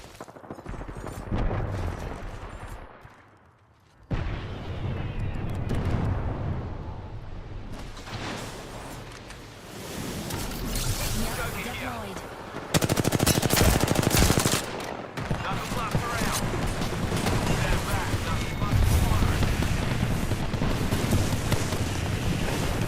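Bursts of automatic gunfire in the Apex Legends video game, with rapid shots mixed into dense, noisy game sound that rises and drops over the stretch.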